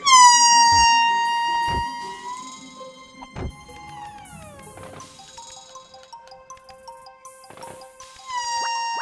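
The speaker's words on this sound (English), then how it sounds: "That's really sad air horns." A game's air horn sound effect blares in long sustained tones that bend and slide in pitch, repeating in several bursts with quieter gaps between, no voices over it.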